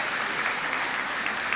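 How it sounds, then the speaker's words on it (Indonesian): Steady, dense applause fills a church sermon hall, a continuous crowd clapping at even loudness throughout the short stretch with no voices over it. "Kasih tepuk tangan untuk Tuhan Yesus"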